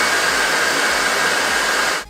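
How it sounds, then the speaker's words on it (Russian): Dreame R20 cordless stick vacuum cleaner on maximum mode, a loud, steady high-pitched motor whine with a broad airy rush, close and continuous before cutting down abruptly at the end. "Автоматический, в котором пылесос самостоятельно добавляет обороты где нужно, и максимальный, при включении которого ковер нервно вздрагивает"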